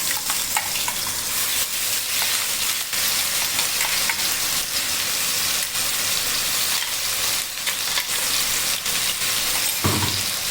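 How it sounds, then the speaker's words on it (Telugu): Onion and ginger paste frying for a Bengali fish curry, a steady loud sizzle with scattered spoon scrapes and stirring clatter throughout, no one talking. "దీంట్లో రా స్మెల్ అనేది వెళ్ళే వరకు కాస్త ఫ్రై చేద్దాం"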